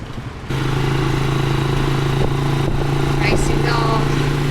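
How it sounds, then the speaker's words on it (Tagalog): A motorized tricycle engine drones steadily as it rides through a town centre in San Pablo, with a constant low hum, faint clatter and a few passing traffic sounds around it. "I ended up riding a tricycle."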